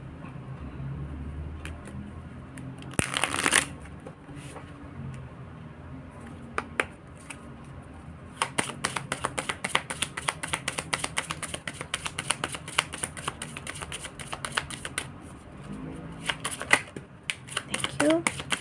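Tarot cards are shuffled close by: a brief loud riffle early on, then a long stretch of rapid, crisp card flutter and slaps, with a voice faintly underneath.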